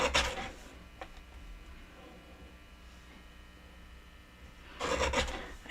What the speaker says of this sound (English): Then I am going to trim my happy birthday, or my Happy New Year words.